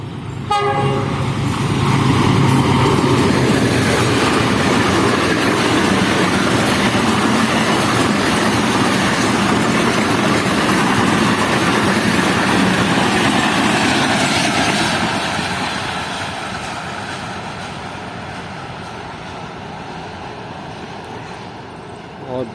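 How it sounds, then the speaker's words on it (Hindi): A high-speed train roars past Changa Manga railway station in a jungle setting, loud and sustained with horn-like tones for about fifteen seconds before fading into the distance. "और बेहतरीन स्पीड में स्किप किया है ट्रेन ने छांगा मांगा रेलवे स्टेशन को"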